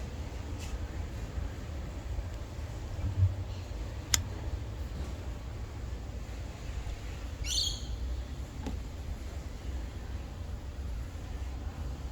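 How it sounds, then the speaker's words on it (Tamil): Birds out in the morning, apparently feeding, give a few faint, brief chirps at a distance over a steady low background hum, with long quiet gaps between calls. "அங்கே சில பறவைகள்,"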